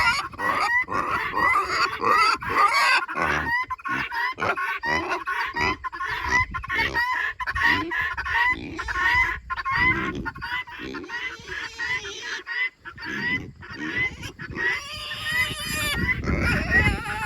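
Loud, harsh, repetitive guinea hen calls chatter almost without pause, a raucous flock crying close by with rapid, rhythmic squawks.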